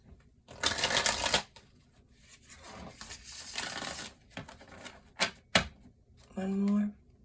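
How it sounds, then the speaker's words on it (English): Two riffle shuffles of playing cards at close range, each a dense rattling burst, followed by a few sharp taps of cards squared on a table and a short tonal sound at the end, with talking in between. "Couple shuffles here."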